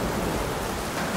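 Heavy rain in a Hindi spiritual audio drama, a steady, dense hiss of downpour that fills the whole moment evenly, with no voices and no breaks.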